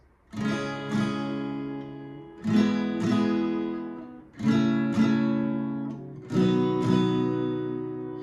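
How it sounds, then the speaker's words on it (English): Guitar strummed in pairs: four chords, each struck twice in quick succession, ringing out clearly with no voices. "we're going to strum 2 times, and that's going to sound like this"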